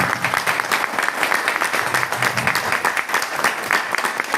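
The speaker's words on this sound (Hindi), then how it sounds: "तो दोस्तों हम अपने मेहमानों का स्वागत कैसे करते हैं? जबरदस्त तालियों के साथ।" Loud, lively applause from an audience welcoming guests at a company event, many hands clapping in a thick, fluttering burst that continues throughout.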